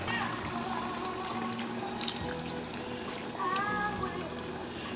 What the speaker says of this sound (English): And 2 cups of water goes in, and I'll see where it comes up inside here.